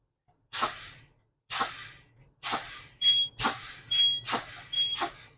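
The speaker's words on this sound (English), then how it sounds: "I got an alarm before 55 psi" A steady series of sharp air-brake hisses as brakes are fanned down, and partway through a high, thin truck low-air warning tone starts beeping between the bursts, before 55 psi.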